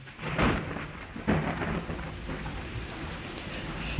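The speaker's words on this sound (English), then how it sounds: "a strong storm blows a branch right through your fence." A thunderstorm with heavy rain pattering steadily, broken by two close rumbling thunderclaps early on and lighter rumbles after.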